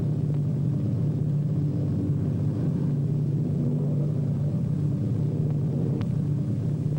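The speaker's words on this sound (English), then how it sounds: "Our pilot brings his plane in to a smooth landing." A 1948 propeller airplane coming in to land at an airport, a steady low engine rumble and drone that stays constant and fairly close throughout, with no voices.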